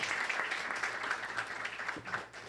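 Audience applause at a Corecon lecture and swearing-in ceremony for a vice-president and council members, a steady wash of clapping filling the room that fades slightly toward the end of the short clip.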